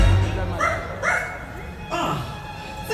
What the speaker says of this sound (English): Where is that dog?